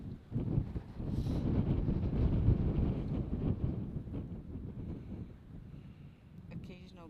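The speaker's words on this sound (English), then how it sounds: "Occasional gusts." Wind gusts at the erupting Kilauea volcano in Hawaii buffet the microphone in a loud, low roar that swells and eases over several seconds, with voices talking faintly underneath.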